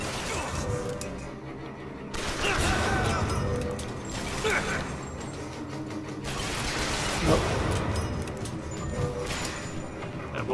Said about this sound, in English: Bullet just went right through the railing